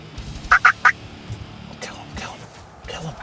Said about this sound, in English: I'm going to cut at him to see if he can gobble for the camera.